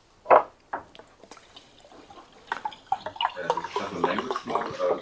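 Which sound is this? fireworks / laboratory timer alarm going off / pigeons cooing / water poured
water poured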